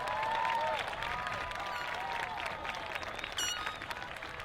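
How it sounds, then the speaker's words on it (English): Graduation audience at a high school ceremony applauding school staff and faculty, a steady wash of clapping from a large crowd that holds fairly even and tapers slightly over several seconds. "Let's give our staff and faculty a big round of applause."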